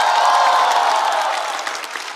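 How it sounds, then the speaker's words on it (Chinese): A studio audience at a roast comedy show applauds the performing guests, a broad wash of clapping and crowd noise that slowly fades. "再次掌声送给所有的表演嘉宾"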